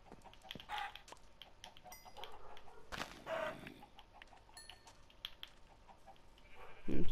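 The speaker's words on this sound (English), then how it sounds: "Now I've just got chickens everywhere." Chickens in the Minecraft video game give scattered, sharp in-game clucks over a quiet game background, with a louder burst of clucking at the very end.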